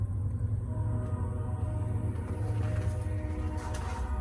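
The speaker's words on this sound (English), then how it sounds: "Listen, do you hear the train?" Train rolls past in Marceline, Missouri, a steady low rumble heard from some distance outdoors, continuous and moderately faint with no voices.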